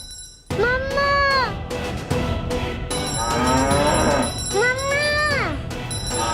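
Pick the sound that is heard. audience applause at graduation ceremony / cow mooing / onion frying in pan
cow mooing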